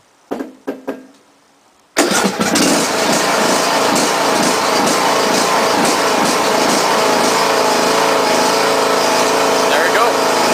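A 2012 John Deere D100 lawn tractor makes a few knocks and clicks, then its engine starts and runs at a steady, loud, close idle with a rough throbbing drone.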